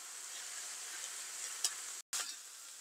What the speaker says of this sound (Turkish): Biberlerim de birkaç dakika sotelendikten sonra şimdi domateslerimi ilave ediyorum.